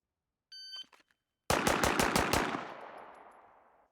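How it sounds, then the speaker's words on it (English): A handgun drawn from an outside-the-waistband open-top holster fires six rapid shots at a single target seven yards downrange in a live-fire drill, loud sharp cracks in quick succession after a brief beep, with ringing decay. "draw and fire 6 shots from a outside the waistband open top holster"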